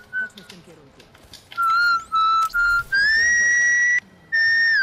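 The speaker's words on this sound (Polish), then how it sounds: "Nie gwizd, bo mi uszy pękną." A person whistles loudly in a series of sharp, sustained shrill tones, several short bursts followed by longer held notes that bend in pitch, with quieter background noise and a voice between them.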